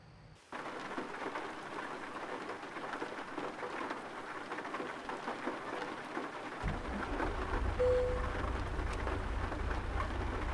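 Steady rain pours in the American Truck Simulator video game, a constant hiss after a brief quiet start, joined by a low rumble that swells and holds through the second half.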